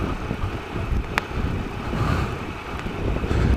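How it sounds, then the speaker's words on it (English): A Triumph Explorer motorcycle engine pulls steadily along a grassy byway, a low rumbling drone mixed with wind buffeting against the microphone and occasional clicks. "Just letting the engine pull me along here, not really adding anything to it"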